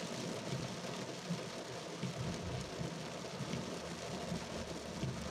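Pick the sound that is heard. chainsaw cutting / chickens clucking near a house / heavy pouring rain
heavy pouring rain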